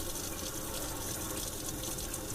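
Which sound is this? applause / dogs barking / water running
water running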